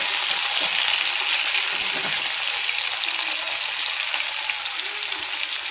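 Fish sizzling in hot oil, a dense, even crackling hiss that stays close and steady, broken only by a couple of faint utensil taps.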